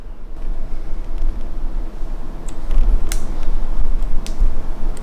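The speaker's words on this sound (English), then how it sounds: "I'm gonna unscrew the 2 main screws." Small screwdriver turning the screws on a hair clipper blade, producing a low continuous creaking grind with a few sharp metallic clicks, close and fairly loud in a room at home.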